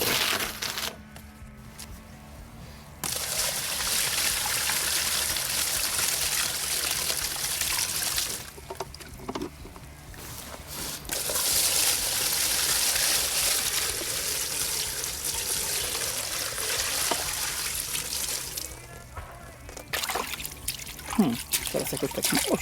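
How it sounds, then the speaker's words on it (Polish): Water is poured into a sawdust and wood chip mix for making briquettes, giving a trickling, splashing rush in several bursts, with voices talking nearby. "Zaraz wody doleję."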